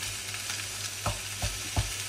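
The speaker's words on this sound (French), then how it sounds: "on va égrener la viande. Donc le feu est un peu fort." Ground meat frying in a hot pan over fairly high heat with a steady sizzle, broken by a few sharp scraping stirs as the meat is broken up.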